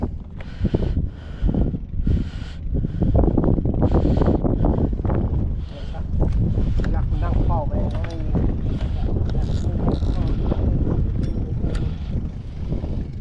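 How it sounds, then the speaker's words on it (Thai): Strong wind buffets the microphone on a fishing boat off Saphan Mai, Chonburi, roaring in loud gusts throughout while people talk over it. "โอ้ลมันแรงอยู่เนี่ยแรง"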